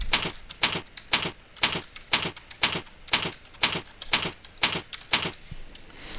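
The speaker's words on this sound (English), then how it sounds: "And here I'll type in" Someone types on a computer keyboard while adding bullet points in PowerPoint. Crisp key clacks come in an even rhythm of about two per second, close and alone.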